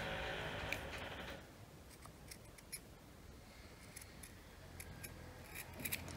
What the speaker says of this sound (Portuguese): você vem, ó, e corta todo esse retalho que tem em volta